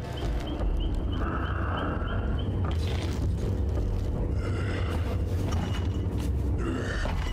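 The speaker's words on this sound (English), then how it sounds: "that is like some big ass horse demon or something." A monstrous horse-like demon from a Dead by Daylight killer trailer makes deep grunting, snorting growls with heavy hoof-like thuds and booms over a dark rumbling bed, loud and close with no talking.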